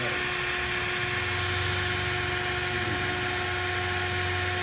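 A homemade drill-driven mixer with a stainless steel rod stirs homemade dishwashing liquid, producing a continuous high motor whine over a buzzing low rumble that thickens partway through.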